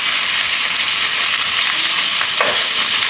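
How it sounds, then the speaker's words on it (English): Jumbo shrimp pan searing in a hot pan, a loud, steady, close sizzle that fills the whole stretch without a break, with a brief stirring scrape near the end. "As long as you can still hear the sizzle, pan seared."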